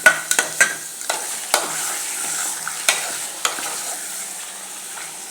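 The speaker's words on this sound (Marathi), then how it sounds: "आता याच्यात मटण घालून घ्यायचं थोडं हलवूया" Mutton is stirred in a pan with cooked tomato, with repeated sharp scrapes and clinks of a spoon over a soft sizzle, close and fairly loud.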